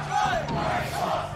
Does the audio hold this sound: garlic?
no